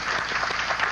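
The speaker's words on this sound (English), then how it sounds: "There were cheers and a lot of applause and laughter here." Mission control team cheering and applauding after a space shuttle Endeavour's hard docking during the Intelsat 6 reboost mission, a dense, steady burst of clapping with crowd noise throughout the brief moment.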